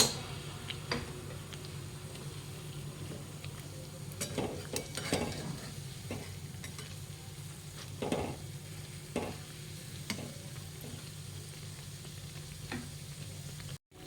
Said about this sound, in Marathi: इथे आपण दोन ब्रेड पकोडा मस्तपैकी छान लोते मिडियम गॅसवर तळून घेऊया